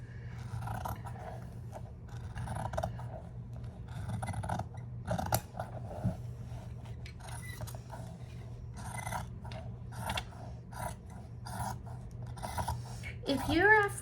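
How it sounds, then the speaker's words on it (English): Scissors snip through fabric being cut for a bean bag, a steady run of crisp close cuts over a low background hum, with a louder rustle near the end. "go ahead and cut your piece"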